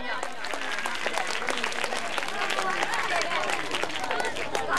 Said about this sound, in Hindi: असगर जलबानी साहब के लिए प्लीज जोरदार तालियां